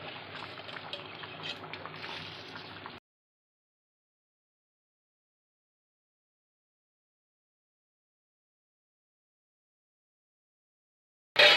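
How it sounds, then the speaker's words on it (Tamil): Water for mint brinji rice bubbles at a boil in a cooking pot. A few seconds of close, steady bubbling give way to long silence, then a brief loud burst at the very end. "பார்த்தீங்கன்னா நல்லா கொதிச்சிச்சு தண்ணி"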